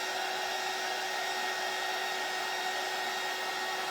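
Hair dryer blowing steadily on craft kit pieces for a bunny welcome hanger, a constant loud close-up whoosh with a faint even whine, unbroken from start to finish, no voices.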